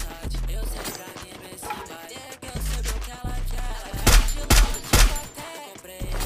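Gunfire in a mobile shooter video game during a tournament match, with rapid bursts of automatic shots and several sharp, loud cracks packed close together, heard without talking.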